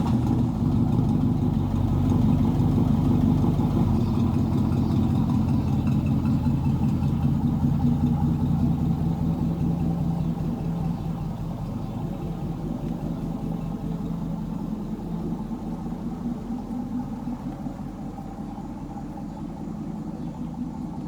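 A pickup truck engine idles steadily nearby, a low even rumble that eases slightly in level partway through, with no talking.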